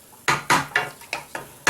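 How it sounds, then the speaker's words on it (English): A metal spoon scrapes the bottom of a pan of chicken tikka masala, six sharp evenly spaced scraping strokes, close and clear with no talking. "we just want to make sure that we scrape the bottom of the pan"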